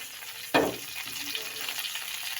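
Half a teaspoon of cumin seeds hits hot oil in a pan with a sharp burst of sizzling, then settles into a steady crackling fry nearby, with no voices.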